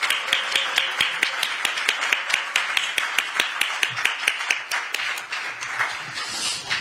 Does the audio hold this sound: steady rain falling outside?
no